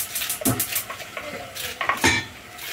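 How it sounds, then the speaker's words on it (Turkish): Dishes, pots and cutlery clatter and clink in a home kitchen as they are loaded into a dishwasher, a series of close, sharp knocks and rattles in irregular bursts. "Şu bulaşıkları hemen makineye düşürelim."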